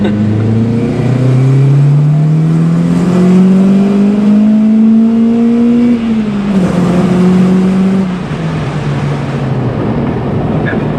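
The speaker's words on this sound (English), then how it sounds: "You could hear where the engine gets louder?" An Acura RSX Type S engine with 288,000 miles revs hard and climbs in pitch to high rpm, loud and close, then drops off as the throttle eases.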